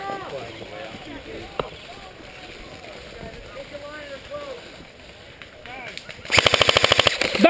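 Automatic gunfire from a military video game erupts near the end as a loud, rapid burst of shots, following quieter background chatter and ambient noise with people talking.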